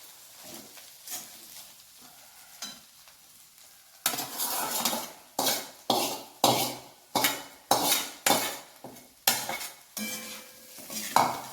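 Spicy poha with onions is stirred in a pan: quiet scraping at first, then about nine loud, regular strokes of a utensil scraping and clattering against the metal over a faint sizzle.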